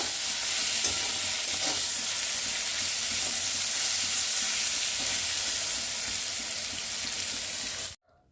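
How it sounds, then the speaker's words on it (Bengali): Yardlong beans fry in a pan with a loud, steady broadband sizzle that runs unbroken for about eight seconds, with faint clinks of stirring, then cuts off abruptly. "বরবটি রান্না চলছে এখন, বরবটি ভাজা।"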